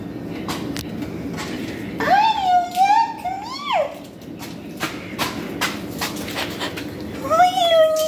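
A heavy pet cat meows loudly several times indoors while being handled, drawn-out wavering cries close by, with household clatter and a voice between the calls.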